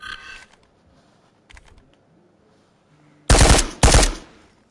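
A rifle in the Ghosts of Tabor VR video game fires two loud, close, sharp bursts in quick succession after several faint handling clicks and quiet stretches.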